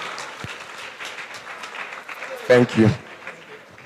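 Audience applause at a career expo fills the room as a steady wash of clapping, with a short spoken thanks cutting through near the end.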